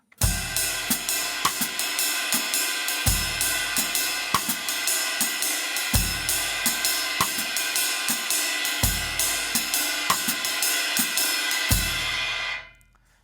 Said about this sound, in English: Now we're going to add a rim click on the and of 4 at the end of the first measure.